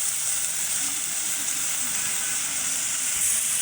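Spices, onion, chili, turmeric and cumin paste sauté in a hot pan with a steady, bright sizzle and hiss that stays even and loud throughout.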